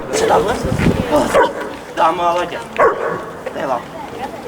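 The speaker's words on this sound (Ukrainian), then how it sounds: "Також кінолог продемонстрував заняття зі службовим собакою." A service dog barks and yips repeatedly at close range during a handler's training demonstration in a school yard, with people talking over it.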